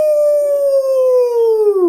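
A human voice imitates a wolf howl, one long sustained tone that slowly glides downward and then drops at the end, loud and close with nothing else heard.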